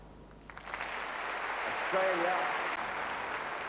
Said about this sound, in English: The all-white audience clapped their agreement.